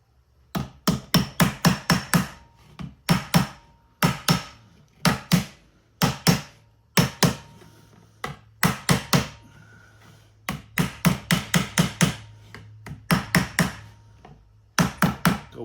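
Number 2 tacks hammered into a wooden Shaker box, crisp close metal-on-wood taps in quick bursts of four to six blows with short pauses between, steady and loud with no talking.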